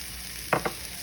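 Mushrooms and minced garlic sizzle faintly in a pan under a couple of quick scraping stirs, two short close strokes over a steady low hiss.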